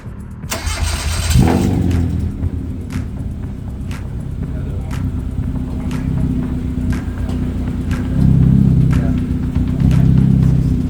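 A race car engine cranks briefly, catches and settles into a loud, rumbling idle, with a couple of blips of rising revs later on.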